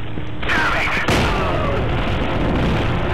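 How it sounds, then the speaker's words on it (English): Gunfire and explosive booms from battle in the video game Resistance: Fall of Man, a dense continuous barrage with a sharp blast near the start and another about a second in, loud and busy throughout. "There are people shooting."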